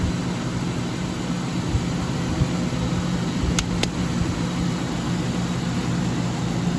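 A Buick LeSabre's engine idles with the air conditioning switched on, giving a steady, continuous rumble and hum with no change in rhythm, heard close and alone without any talking.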